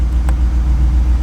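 A Jeep Wrangler Rubicon 392 Xtreme Recon with a V8 engine runs close by, giving a loud, steady low rumble that holds for a moment with no break.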